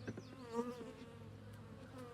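A steady insect buzz from many honeybees swarming close around an open hive, droning continuously with a few louder passes and no talking.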